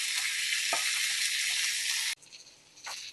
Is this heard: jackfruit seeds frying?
yes